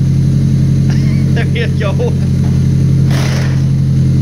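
A repaired car engine idles steadily with a low continuous hum throughout, while a person speaks briefly over it.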